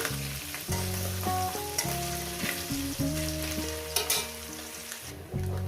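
Small mourala fish sizzle steadily in hot oil in a pan, a continuous crackling fry with music playing over it.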